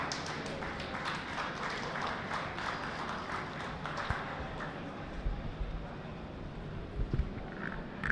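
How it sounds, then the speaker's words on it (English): An audience applauds at the launch of the Food Service Consultants Association of India, a steady wash of many hands clapping at moderate distance that runs through the whole stretch, with a few louder claps near the end. "Can we have a round of applause for him?"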